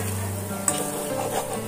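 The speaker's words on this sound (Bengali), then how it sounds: "এবার আমি সমস্ত সুজি মধ্যে এইভাবে নাড়তে থাকবো।" Semolina frying in ghee in a pan as it is stirred, a close, steady sizzle with a faint scrape of the spoon, a single brief clink, and no one talking.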